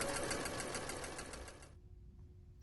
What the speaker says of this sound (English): let's go back to the sewing machine for our last seam